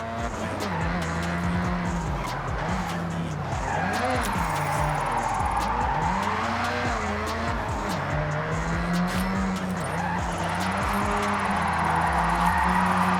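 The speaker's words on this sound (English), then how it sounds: "If you don't drift with style, it's just skidding." Drifting car in Forza Horizon 6 with a continuous loud engine roar that rises and falls with gear changes, tires squealing and skidding throughout, close and sustained.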